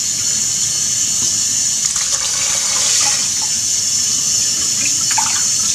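Water poured from a cup into a rice cooker pot holding basmati rice, a steady loud rushing pour that runs the whole time without a break, no voices.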